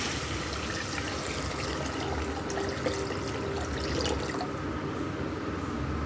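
Lemon water pours steadily into rasam in a continuous soft splashing stream, close by, with no voices.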